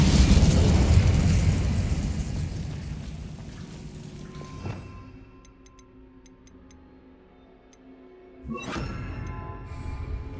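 In Hogwarts Legacy, the Incendio fire spell erupts with a loud whooshing burst that gradually fades, followed by faint ticking and a second fiery blast near the end.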